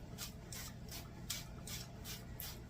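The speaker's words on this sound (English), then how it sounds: "I'm going to spray them with a little bit more olive oil" Olive oil sprayed in a rapid series of short, even hissing bursts onto chicken wings and potatoes, about seven spritzes close by, over a steady low hum.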